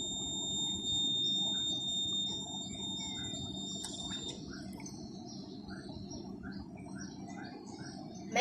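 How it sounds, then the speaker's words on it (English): A hydroponic system's water level alarm gives a steady high-pitched electronic beep continuously over a constant low hum of running water or a pump, with a brief clatter near the end. "add the water back to the top level again to make sure the alarm goes off"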